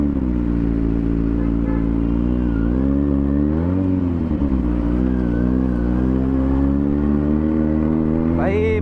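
A Kawasaki Z900 motorcycle engine idles and revs steadily up close, its deep harmonic drone rising and falling in pitch with a brief throttle blip near the end.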